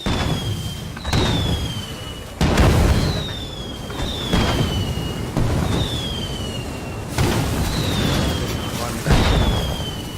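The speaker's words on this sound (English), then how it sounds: "It's a fireworks show." Fireworks go off in the video game State of Decay 2 in repeated booming bursts, about seven of them spaced a second or two apart, each with a high whistling shriek and a crackling tail.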